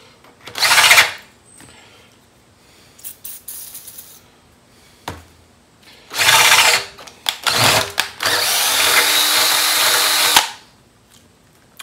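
A power drill whirs in several bursts, one short, then two longer runs, with a sustained high grinding whine as the bit bites into metal, lubricated with spray lube, while making an oil pump primer tool.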